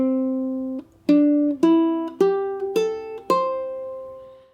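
A ukulele picks out a song riff: six clear, ringing plucked notes climbing one after another at an even pace, played close and alone with no talk.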